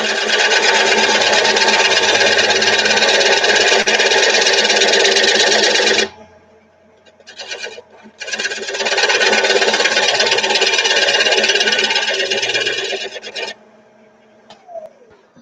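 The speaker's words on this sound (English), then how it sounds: "Use my teardrop scraper." A teardrop scraper cutting wood on a lathe gives a loud, steady scraping whir against the spinning piece in two long passes, separated by a short quieter gap where the motor hum carries on alone.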